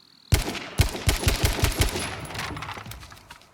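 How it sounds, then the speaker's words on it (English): Rapid automatic gunfire in the battle royale game H1Z1: King of the Kill, a burst of about eight punchy close shots fading into a ringing tail, with no voices. "I don't want to shoot through it,"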